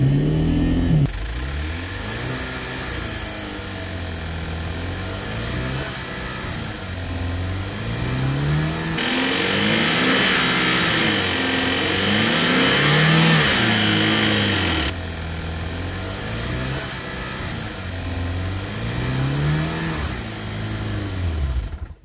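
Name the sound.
car engine revving at full throttle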